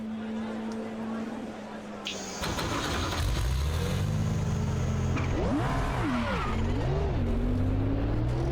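A racing car on a circuit in the Raceroom sim game fires up, its engine settling into a steady drone before climbing and falling through a few revving surges, close and prominent.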